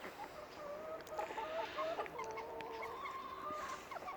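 Lohmann chickens clucking softly and continuously at a distance, with scattered short calls over a quiet background.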